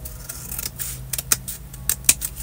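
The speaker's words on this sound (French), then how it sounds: "Je crois que je vais le couper parce que sinon ça va me... Je vais couper au bord." Scissors snip along the edge of a paper square at a scrapbooking craft table, a few sharp close clicks and crisp cuts in an irregular rhythm, with no talking.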